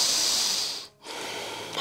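A deep, audible inhale during a seated chair-yoga warrior two stretch, a steady breathy hiss lasting about a second before a brief pause, then another airy breath resumes, close and alone without talk.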